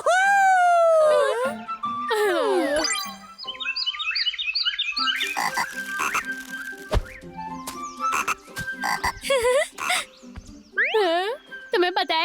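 Cartoon frogs croak in a bouncy, chirpy series of calls alongside springy sound effects and animated voices, loud and close.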